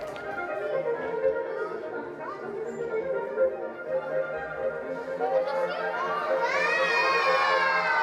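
Children in the audience at a science and magic show cheer and shout together as a loud, continuous crowd roar, with excited high-pitched shrieks rising toward the end.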